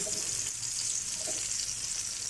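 A gola kabab of minced meat fries in a pan over low heat, a constant close sizzle with soft crackles and a couple of faint spatula touches, no one speaking.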